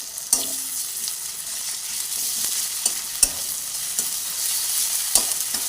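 Ginger garlic paste frying in oil in a pan as it is stirred, with a steady bright sizzle broken by repeated sharp spatula scrapes and clicks against the pan.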